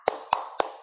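A class claps the tepuk fokus rhythm routine: three sharp, evenly spaced hand claps in under a second, moderately loud and close in a quiet room.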